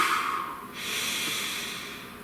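A single deep breath, a long airy inhale and exhale close to the microphone, soft and steady with no talking.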